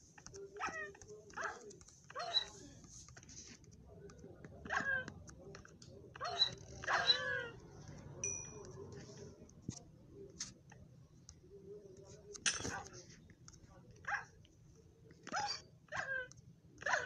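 Cartoonish dogs barking and yipping inside a crafting video game with an airship, a string of short separate barks spread across the stretch, moderately close, over a low background game hum.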